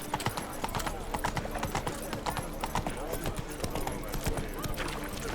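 Roach the horse trotting in The Witcher 3, hooves clip-clopping in a quick, steady rhythm close by, with faint game voices and crowd chatter underneath.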